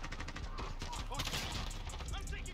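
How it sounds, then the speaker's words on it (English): Gunfire rattles through an online match of Modern Warfare, with shotgun blasts and other shots packed closely together under steady game noise, and a voice talks over the action. "Damn these shotguns, man."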